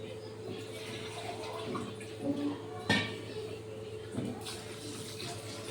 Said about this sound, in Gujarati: ખાંડ ડૂબે એટલું આપણે પાણી નાખવાનું છે.